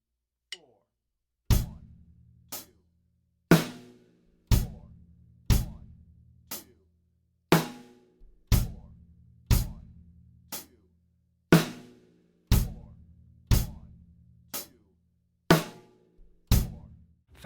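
A slow quarter-note drum beat on a kit, with hi-hat, snare and bass drum struck at an even, unhurried pace, each hit ringing out clearly with brief decays between strokes, close and alone.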